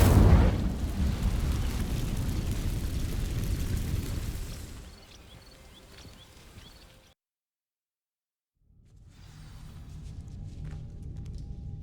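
A burst of Incendio fire magic catches on dry vines in Hogwarts Legacy, a loud roaring whoosh that rumbles for several seconds, fades out into silence, then gives way to quieter ambient game sound.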